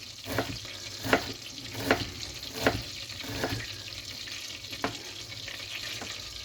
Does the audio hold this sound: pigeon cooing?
no